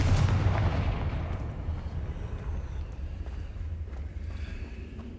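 The Confringo blasting spell in Hogwarts Legacy goes off as a loud, close boom with a deep rumbling tail that slowly fades over several seconds.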